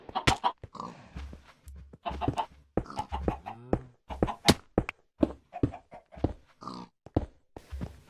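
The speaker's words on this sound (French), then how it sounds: "il tue des cochons en même temps qu'il creuse" Pigs being killed in Minecraft while a player digs, a rapid series of short game oinks and hit sounds overlapping with sparse footstep-like clicks, fairly close and busy throughout with no talk.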